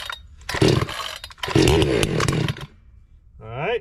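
A Husqvarna 460 Rancher chainsaw cold starting with the choke pulled: two loud close bursts of a sputtering two-stroke engine firing, then a brief quiet, followed by a voice.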